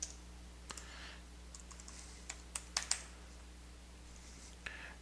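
Soft, sparse keystrokes on a computer keyboard as a password is entered, a few isolated clicks then a quick cluster of taps, quiet and close in an otherwise still room.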